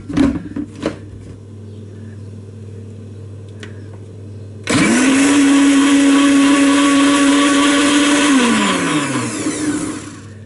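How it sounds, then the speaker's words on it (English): A blender whirring up to blend bulletproof coffee, starting abruptly after a few light knocks and clatters, then running loud and steady for several seconds before winding down at the end. "You get your blender,"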